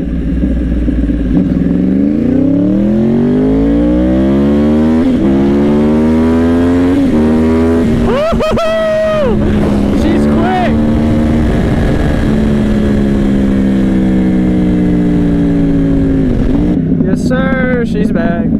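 A motorcycle in standard riding mode, recorded close from the rider's position, accelerates repeatedly through the gears. The engine note rises sharply and drops at each shift, with wind rush and passing traffic around it.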